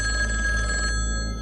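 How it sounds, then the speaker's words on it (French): An old-style telephone bell rings loudly and close in a rapid trilling burst, then cuts off and leaves a fading tone. "le téléphone retentit chez les Le Gentil."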